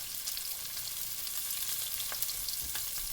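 Battered, egg-dipped squirrel legs sizzle steadily in a frying pan, a constant hiss of hot oil with a few small pops, close and fairly loud, with no voices.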